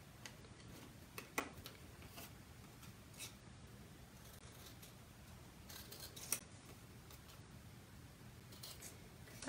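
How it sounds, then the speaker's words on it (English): Scissors cut paper along a score line in a card-making session, giving faint, quiet snips and ticks spaced irregularly over a soft background hiss. "And then cut it up in the middle."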